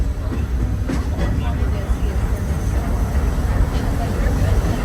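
A train on the Magic Kingdom railroad at Walt Disney World runs along a straightaway near Tomorrowland, giving a loud, continuous rolling rumble heard from on board.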